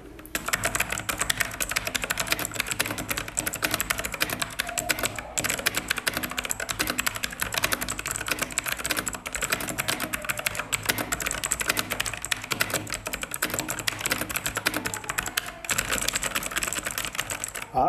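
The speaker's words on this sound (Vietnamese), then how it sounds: "tiếng clicky của em này không to giống như những con bàn phím cơ khác" Fast, continuous typing on a Batknight K668 mechanical keyboard with optical switches, a dense stream of close, crisp keystrokes with brief pauses and no voices.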